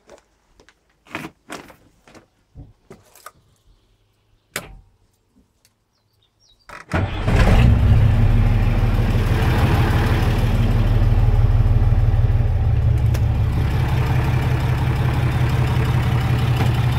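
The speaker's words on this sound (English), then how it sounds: "First I'm gonna start the truck." A truck engine is cranked and catches after several faint clicks and knocks, then settles into a loud, steady idle that runs on alone.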